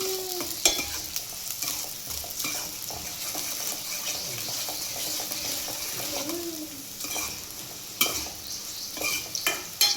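Onions frying in oil until golden for a chicken liver fry, with a continuous sizzle and repeated close scraping stir strokes, plus a few sharper clatters of the spoon against the pan.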